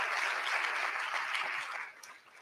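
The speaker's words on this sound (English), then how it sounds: "So let's give him a round of applause too for being here today with me." An audience at a community fall breakfast gives sustained applause, a dense spread of many hands clapping that stays steady before thinning and fading toward the end, heard without speech.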